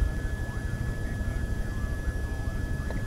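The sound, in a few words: helicopter in the video game ArmA 2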